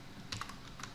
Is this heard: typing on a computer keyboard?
yes